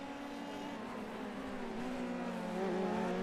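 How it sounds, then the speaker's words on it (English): F3 race cars in a sim racing series at the Hungaroring run at speed, a constant droning engine tone that rises in pitch near the end, with no clear scraping or bouncing thumps standing out and no talking. "You can hear noises as well as the cars make contact with the curbs, scrape and bounce along them."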